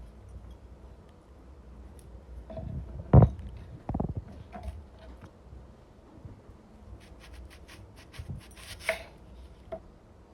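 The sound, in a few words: knife slicing apples into large pieces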